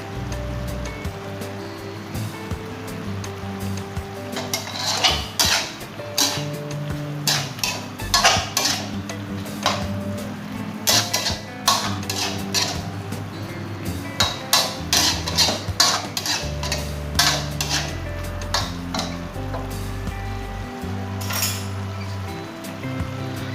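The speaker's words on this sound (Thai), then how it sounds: "ก็ทำการผัดจนให้หมูสุกเลยนะครับ" Pork is stir-fried in a pan with red curry paste, long beans, sugar, seasoning powder and fish sauce, with irregular bursts of metallic clinks and spatula scrapes over a steady sizzling hiss and no talking.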